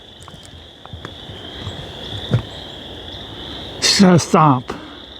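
Steady insect chirring hums under a nighttime ambience, with a couple of croaky frog calls near the end and a few faint clicks and rustles, on a spring trail near the Thousand Islands.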